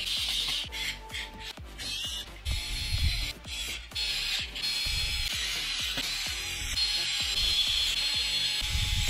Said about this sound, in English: Install four screws first.